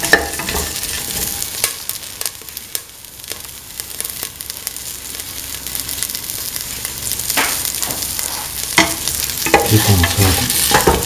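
Food sizzles steadily as it sautés in a pan for a lentil, bell pepper and coconut milk rice dish, with repeated scraping stirs of a utensil punctuating the frying.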